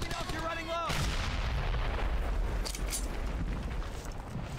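Gunfire and heavy blasts in the World War II shooter Brothers in Arms: Hell's Highway, a loud boom followed by sustained rumbling fire and scattered shots.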